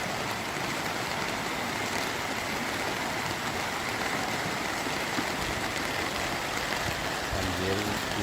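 Fast, turbulent flood water rushes steadily through a town, a continuous broad roar and wash that stays loud and unchanging throughout with no clear voices.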